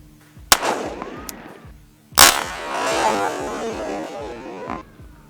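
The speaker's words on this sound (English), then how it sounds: "let's go ahead and check it out one-handed and see how she looks" Two loud, sharp shots from a Smith & Wesson 686 Competition revolver fired one-handed, each a close crack followed by a ringing echo that decays over the following second or more, with no talk.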